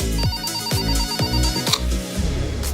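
A mobile phone ringtone plays loud and close, a repeating melodic chime pattern that rings through several quick cycles with no talking over it.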